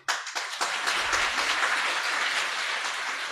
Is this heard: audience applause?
yes